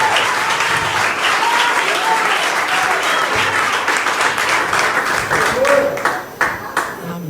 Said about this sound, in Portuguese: Bate palma para Jesus.